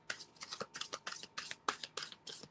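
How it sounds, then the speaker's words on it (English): A deck of playing cards is shuffled up close in a quick series of crisp, rhythmic riffling bursts, with no talking. "Shuffles, I like how it shuffles."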